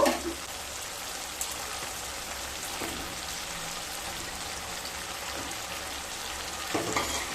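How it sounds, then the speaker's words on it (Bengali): Fried eggs added to a pan of well-cooked spice paste for an egg curry, heard as a steady, dense sizzle with a few louder crackles and stirring scrapes at the start and end. "যখন মশলাগুলো খুব ভালোভাবে কষানো হয়ে যাবে তখন ভেজে রাখা ডিমগুলোকে দিয়ে দেব।"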